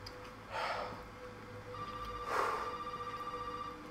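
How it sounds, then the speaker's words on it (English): A telephone rings in Resident Evil 7, two muffled electronic ring bursts about two seconds apart over a low, dim ambient hum, with no talking. "There's a phone ringing."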